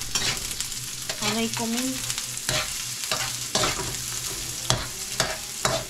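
Chicken adobo stirred in a sizzling pan, with steady frying crackle and repeated scraping stirs that splatter; a brief spoken remark breaks in.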